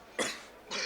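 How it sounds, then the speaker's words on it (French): A person coughs from dust in two close, sharp bursts, the first harsher and the second following after a short pause, with no talking. "c'est ce qui me fait tousser"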